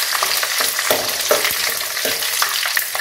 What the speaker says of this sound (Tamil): கொஞ்சம் போல ஜீரகம், போட்டுட்டு இந்த பச்சை மிளகாய் லைட்டாக கீரி போட்டு வச்சுருக்கேன். இது வந்து வதக்கணும்.